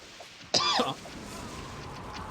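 A single sharp cough bursts out once from a commentator casting a Kohan Ascension strategy-game tournament match. Quiet room tone follows.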